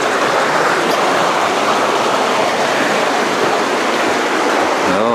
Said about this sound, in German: Jetzt tropft es ganz deftig.